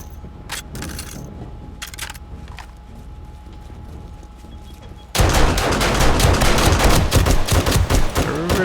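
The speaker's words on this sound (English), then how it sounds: "Firing indiscriminately now." Sustained gunfire erupts in the zombie survival game 7 Days to Die, a loud, dense fusillade of rapid shots that runs for several seconds after a quieter stretch with a few sharp clicks and thuds.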